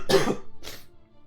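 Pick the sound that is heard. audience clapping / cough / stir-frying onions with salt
cough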